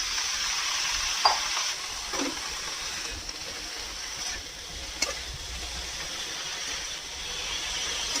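Mushrooms stir-frying in a pan over a high flame, giving a steady, moderately loud sizzle with a few sharp clicks and scrapes of stirring, and no voices.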